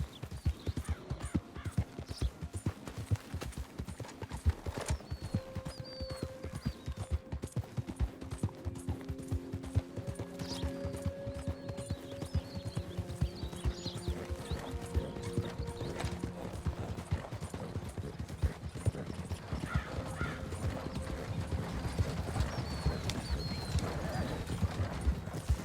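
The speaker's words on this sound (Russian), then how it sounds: "Давайте запрыгнем на лошадь нашу и поскочим дальше." Horse hooves gallop at a steady, rapid rhythm through the open country of the video game Red Dead Redemption 2, a continuous clip-clop carrying on without talk, with occasional faint tack and ambient sounds.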